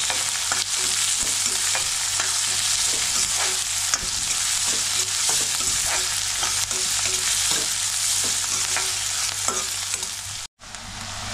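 Mustard seeds, cumin, garlic, curry leaves and onion fry in hot oil, a loud, dense, steady sizzle with crackles and regular stirring clicks, a brief drop just before the end.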